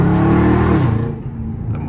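550 hp Dodge Scat Pack engine heard from inside the car, a loud rev that drops off as it shifts, then settles into a lower hum.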